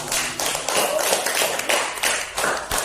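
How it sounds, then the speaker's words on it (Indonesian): Classroom students clap for a presenting group, a dense, close burst of hand claps with fast irregular rhythm, fairly loud and continuous throughout. "Tepuk tangan untuk kelompok 1."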